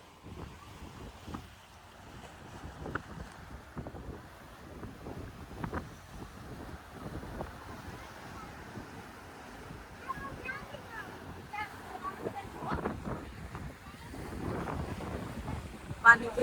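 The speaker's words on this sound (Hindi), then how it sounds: "पानी की लहर की आवाज सुने आप" Small water waves lap and slosh against a boat, with buffeting wind noise on the microphone. Scattered splashes grow busier toward the end, and voices can be heard faintly.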